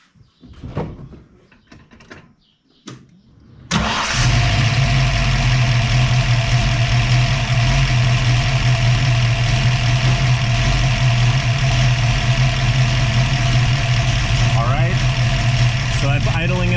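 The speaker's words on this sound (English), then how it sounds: "So that's idling at about 600." A car engine fitted with an Autolite 4100 carburetor idles at about 600 rpm, a steady loud low rumble starting after a few seconds of quieter handling noises and running unbroken to the end.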